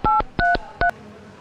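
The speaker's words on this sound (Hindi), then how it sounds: "रुको फोन ही मिलाना।" Three short dual-tone telephone keypad beeps, evenly spaced and loud, dialed on a phone with a faint hum beneath, no talking.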